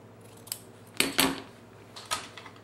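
Scissors trim excess material from a small handmade purse, a handful of sharp close snips, the loudest pair clustered together, with short quiet pauses between cuts.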